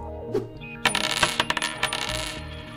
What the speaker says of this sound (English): Every week I come here and I take as many pennies as I can.